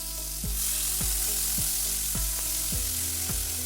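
Cumin seeds and onion paste sauté in a hot karahi with a steady, close sizzle of frying, broken by a few sharp scrapes of stirring roughly every half second to second.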